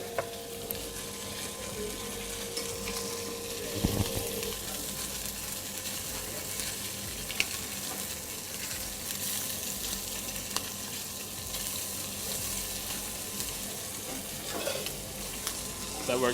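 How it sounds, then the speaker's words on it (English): Octopus sears in a very hot pan with a strong, steady sizzle and spitting crackle, broken by the odd clink of a utensil and no voices over it. "What you want to do is just very quick, throw the octopus in there, okay?"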